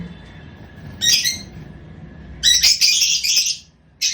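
Lovebirds in a colony give sharp bursts of chirping and squawking, one short outburst and then a longer flurry close by, with quieter gaps between.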